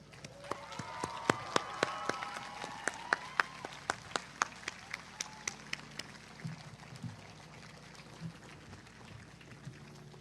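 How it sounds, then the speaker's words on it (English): Audience at an in-person university commencement ceremony applauds the candidates, with sharp individual claps ringing out over a steady wash of clapping that gradually thins and fades toward the end. "Audience, please join me in applauding all of these candidates for their accomplishments."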